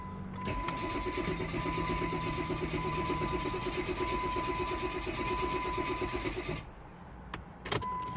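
Jeep Grand Cherokee 3.0 diesel being cranked with a fuel fault: a steady, rapid starter-motor churn runs for about six seconds before it cuts out, followed by a brief uneven engine sound near the end.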